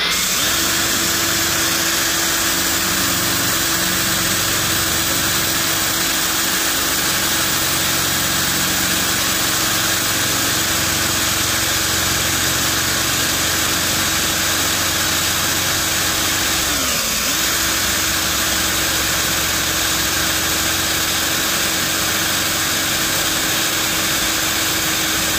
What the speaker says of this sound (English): I'm gonna continue drilling through.